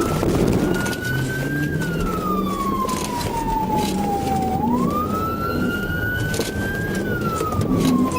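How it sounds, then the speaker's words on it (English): A police car siren wails loud and close during a high-speed pursuit, rising and falling in slow sweeps over the steady rush of the moving vehicle. "Sirens blared as the chase began."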